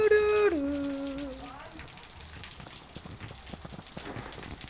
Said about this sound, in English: we got rain, a lot of rain.